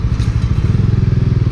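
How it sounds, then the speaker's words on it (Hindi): A Bajaj Dominar 400 motorcycle rumbles steadily on a long highway ride, its engine thumping in a close, loud, even pulse with wind noise on top. "इस बाइक का एक अलग ही आनंद है। और ये डोमिनार की पहली लॉन्ग राइड"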